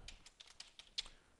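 Quiet, irregular clicking of keys on a computer keyboard while code is entered, a quick run of soft taps with one sharper stroke, fairly close and without talking.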